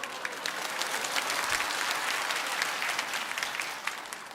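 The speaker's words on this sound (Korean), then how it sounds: "박수 치니까 이상합니다." A congregation at Bundang Woori Church claps in a dense, even patter for a few seconds, with no voices on top.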